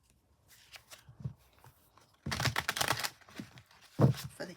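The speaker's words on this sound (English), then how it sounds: "let's go ahead and pull one more card" Tarot cards are shuffled and drawn close by, with soft riffling and slapping that builds into a louder, dense flurry of card flicks midway, then a few sharp snaps as cards are laid down.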